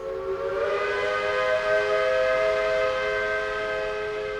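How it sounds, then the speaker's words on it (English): A long, steady factory steam whistle blows to end a shift, several sustained tones at once, loud and unbroken from start to finish. "A final whistle signalling the end of the graveyard shift pierced the steam-sodden air of the etherworks"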